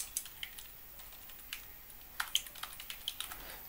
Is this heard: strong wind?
no